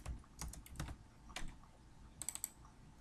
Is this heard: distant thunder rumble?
no